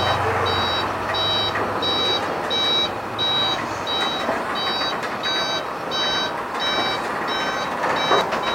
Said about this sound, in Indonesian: Dan untuk truk yang di belakangnya, kontainer belakangnya ikutan mundur guys